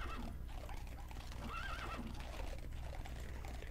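A Minecraft horse lets out a short whinnying neigh in the middle of a steady background hiss, with faint clip-clopping hooves and no one speaking.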